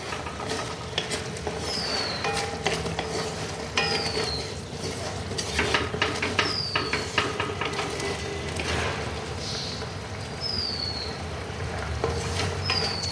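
Plum jelly with sugar and cardamom bubbling as it boils in a pot, a steady close simmering hiss broken by soft pops and occasional faint clinks of a spoon, with no talk.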